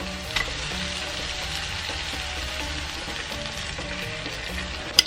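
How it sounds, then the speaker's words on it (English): A pan of shakshuka sizzles steadily on low heat as tomato sauce goes in, with a continuous frying hiss, light stirring scrapes and a couple of sharp clinks of a utensil against the pan. "Now I'm going to add my tomato sauce."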